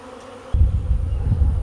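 A honey bee swarm buzzes thickly around a bucket, a low, dense hum that swells abruptly after a quieter moment and carries on loudly and up close.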